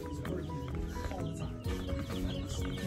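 A group of chickens clucks and murmurs close by in a busy, continuous chatter, with overlapping calls and no talking.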